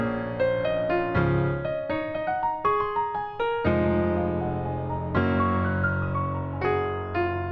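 Melodic piano type beat made in FL Studio, with sustained layered piano chords changing every second or so over a steady low bass, loud and continuous with no talking.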